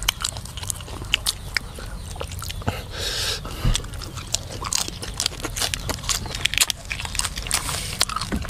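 Crisp, crunchy chewing of crispy roast pork skin from a whole roast pig close to the mic, with repeated sharp crackles and bites over a steady low background hum.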